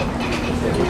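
The Holiday Green train of the Disneyland Railroad gives off a steady, loud rumble of rolling rail cars, continuous through the whole moment with no distinct clacks standing out.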